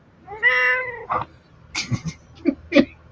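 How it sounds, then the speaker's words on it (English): A cat gives a drawn-out meow followed by several shorter chirps and mews, close by and fairly loud, with no one talking. "Yes, Layla, we see you and hear you. Meow"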